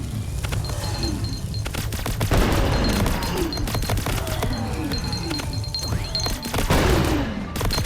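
Weapons fire in the video game Greedland, a steady stream of rapid shots with sharp cracks and occasional heavier bangs, sustained and fairly close for nearly eight seconds.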